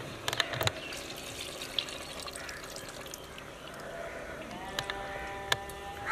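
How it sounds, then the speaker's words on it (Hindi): Water is poured from a ladle into a pot of browned mutton cooking for kali mirch shorba, a soft, quiet splash and trickle with faint kitchen clatter. "अब थोड़ा सा पानी शामिल कर लेंगे"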